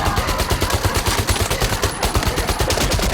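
Sustained machine gun fire from a WWII-era battle scene, rapid bursts of gunshots rattling continuously and loudly for the whole stretch with no talking.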